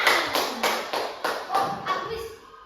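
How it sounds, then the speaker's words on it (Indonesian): Classroom applause during a microteaching lesson, a short burst of about eight rhythmic hand claps that gradually soften and fade. "Ya, tepuk tangan, tepuk tangan."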